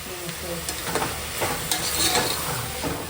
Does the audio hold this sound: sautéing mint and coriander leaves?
yes